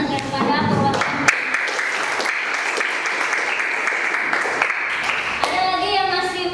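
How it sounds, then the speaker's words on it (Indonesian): Applause for a student in a classroom, a steady patter of many hands clapping throughout, with a teacher's voice and children's chatter heard over it at the start and end. "berikan tepuk tangan kepada perwakilan"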